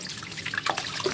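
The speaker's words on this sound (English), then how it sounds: "I'm going to start by hand washing all these supplements with soap, natural apple soap, then water." Supplements rinsed by hand under a running tap, a soft steady trickle with scattered drips and splashes, close and fairly quiet, no talking.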